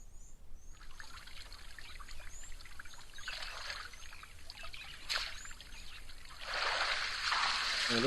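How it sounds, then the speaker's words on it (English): An animal splashes in a waterhole in Kruger Park, soft intermittent water sloshes and trickles rising in bursts, fairly distant and quiet, with faint birdsong in the background and no talking. "It looks like we've got one individual having a lovely splash"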